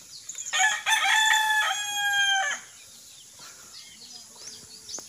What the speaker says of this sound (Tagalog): Ingay ng mga manok. Puro tilaok.